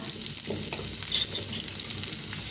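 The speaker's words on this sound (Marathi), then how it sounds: "एक चमचा जिरण एक चमचा तीळ घेतलेला आहे ते मी भाजून घेऊया" Cumin, sesame and coriander seeds dry-roasting in a pan give a steady, close crackle and light sizzle, with a spoon stirring and scraping throughout, no talk.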